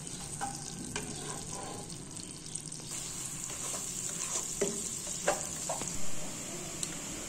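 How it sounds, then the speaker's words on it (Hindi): Sliced onions fry in a pan until light golden, a constant close sizzle with scraping stir strokes and occasional clinks over it, no talking. "अब इसको हल्का सुनहरी फ्राई कर लेना है।"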